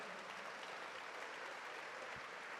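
A church congregation gives sustained, loud clapping during a Spanish-language sermon, an even roar of many hands with no clear talk on top.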